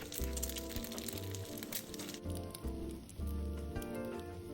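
Beaten eggs fry in hot oil over medium-low heat, a continuous crackling sizzle that stays steady throughout, with background music underneath.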